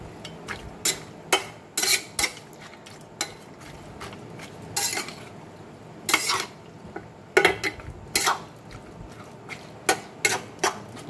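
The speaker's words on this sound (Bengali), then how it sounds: "এবার ভালো করে মাংসটাকে মাখিয়ে নিতে" Chicken meat being mixed with spices by hand in a bowl, giving irregular wet slaps and knocks against the container, spaced and fairly close, with no talk.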